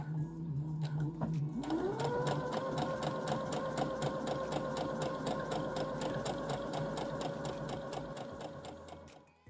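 A domestic sewing machine runs steadily while understitching a seam on a skirt pocket bag, starting with a rising whine then settling into a fast even stitching rhythm for several seconds before slowing.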